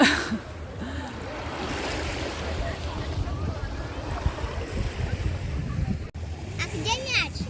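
Sea waves wash continuously at Odesa beach on the Black Sea, a steady broad roar of surf mixed with wind buffeting the microphone throughout.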